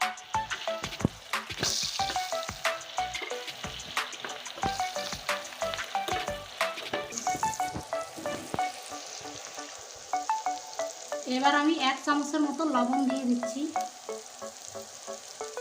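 Chopped onion frying in oil with tempering spices in a pan, a close, steady sizzle broken by sharp stirring clatters, while someone talks over it.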